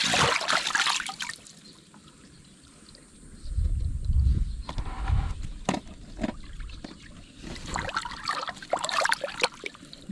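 Irrigation water gushes through an opening cut into an irrigation channel beside a fishpond and rice field, a steady outdoor flow and splash with louder surges midway and near the end.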